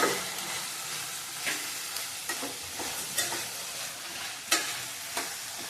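Soaked peanuts roast in hot oil in a pan for a traditional Bhogi vegetable dish, with a steady sizzle broken by sharp, irregular scraping stirs of a spoon against the pan.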